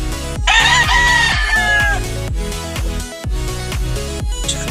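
A Hatch Grey gamefowl rooster crows loudly and close, the drawn-out call rising then trailing off over a dense backdrop of steady music.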